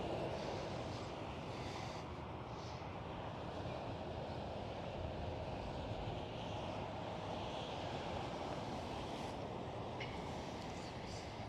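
An Airbus A320 at Amsterdam Schiphol airport makes a steady, distant, fairly faint jet roar, mixed with wind noise on the microphone.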